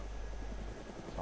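In the DayZ video game, a helicopter gives off a steady low rotor and engine drone, close and continuous, with a faint hum on top.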